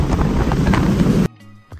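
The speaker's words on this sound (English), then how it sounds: "top of the Stuttgart TV tower, and it's incredibly windy" Strong wind roars and buffets against the microphone on top of the Stuttgart TV tower for over a second, then cuts off abruptly into near silence with a faint thump.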